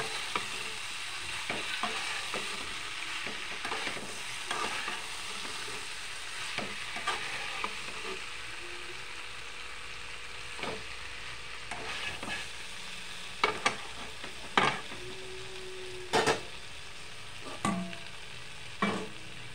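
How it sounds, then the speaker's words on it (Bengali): Eggplant frying with dried fish in a pan, a steady sizzle with intermittent clanks and scrapes of a spoon stirring, close and without talk. "বেগুনগুলো দিয়ে দেবো, দিয়ে নাড়াচাড়া করবো।"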